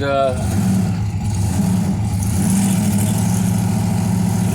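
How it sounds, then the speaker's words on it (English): A big supercharged hot rod engine at a car show idles loudly with a steady low throb and a rising whine of blower surge, continuous throughout, with faint talk underneath. "blower surge"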